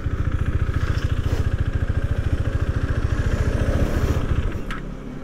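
A motorcycle engine idles with a steady, fast, even putter. It is close and loud and continues alone as the bike is parked, then drops slightly in level near the end.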